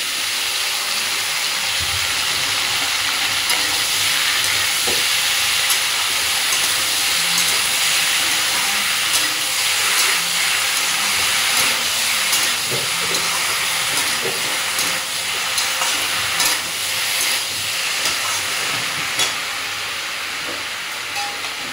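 Oyster mushrooms frying in a hot wok, a constant loud hiss and crackle with scattered clicks and stirring knocks throughout, no voices.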